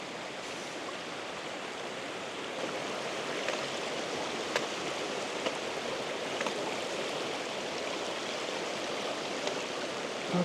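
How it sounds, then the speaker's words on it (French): A river rushes at a crossing point in the Mulagljufur canyon in Iceland, a steady, close, full roar of flowing water with faint clicks and no voices. "Ok, donc on a une petite traversée de rivière."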